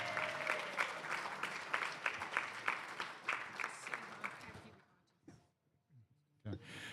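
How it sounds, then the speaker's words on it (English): A crowd at a classic powerlifting championship claps steadily for a sub-junior bronze medal winner, close and lively, under someone speaking over a microphone, then fading to near silence with a few scattered claps. "If we could give him one more round of applause."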